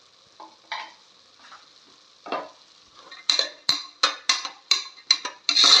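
A spoon stirring spices in a pan of lima bean curry, scraping and clinking against the metal in a steady series of loud strokes that quicken toward the end, with no talk.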